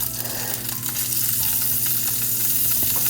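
Yams frying in a pan as ginger goes in, giving a loud, steady sizzle with stirring rustles throughout, close and continuous.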